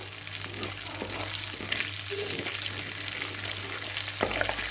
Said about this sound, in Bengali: গোটা গরম মশলা ফোড়নে দিয়ে দিচ্ছি।